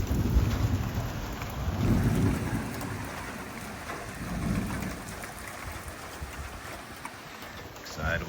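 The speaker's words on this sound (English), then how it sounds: "Thunder. Morning thunder." Steady rain falls at Nauset Light Beach on Cape Cod on a morning, with low rolling thunder swelling and fading in the background, a dense constant wash of drops close by.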